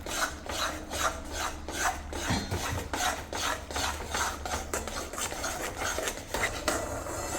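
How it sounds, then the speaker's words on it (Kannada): Besan flour stirred in a pan over a low flame, a steady dry scraping and rubbing of the spoon against the pan, continuous and close, with no talking. "ನಾವು ಲೋ ಫ್ಲೇಮಲ್ಲಿ ಇಟ್ಕೊಂಡು ತಿರುಗಿಸ್ತಾ ಇರೋಣ"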